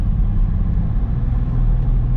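A Toyota Supra in Sport Plus mode rolls along with a deep, steady engine and road rumble heard from inside the cabin, loud and low without distinct revs.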